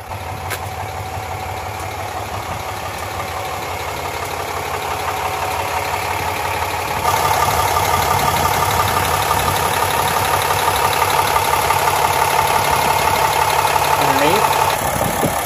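A 2017 RAM 3500 dually with a 6.7 liter Cummins diesel idles close by, its steady low rumble holding throughout and growing a touch louder partway through, with a faint whine above it.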